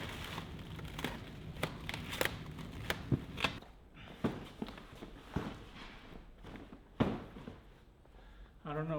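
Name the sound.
cutting plastic wrap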